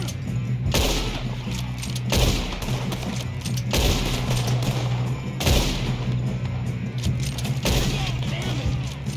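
Gunfire in a Red Dead Redemption 2 shootout: repeated shots in bursts over a constant low hum, with game voices talking throughout.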